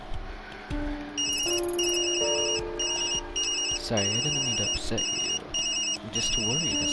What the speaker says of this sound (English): Sorry, Yumi, that's my phone.